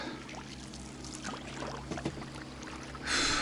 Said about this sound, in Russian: Опять лодка едет.